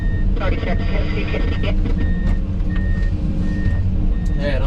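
A loader at a gravel screening site backs up, its reversing alarm repeating in short, regular beeps over the continuous rumble of heavy machinery.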